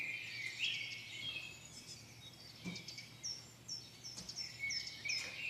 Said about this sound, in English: Sun is shining, birds are chirping.